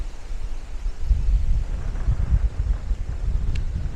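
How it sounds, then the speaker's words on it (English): A gust of wind sweeps through a rocky campsite at Carawine Gorge, a low rumbling buffet that builds after a quieter start and lingers at moderate loudness. "And here comes another gust of wind."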